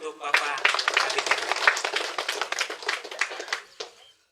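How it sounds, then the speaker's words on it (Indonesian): Audience clapping at an Indonesian groundbreaking ceremony for a state Islamic school in Riung, a dense burst of many hands that ends abruptly, with faint voices underneath. "Mari kita tepuk tangan untuk Bapak Kabid."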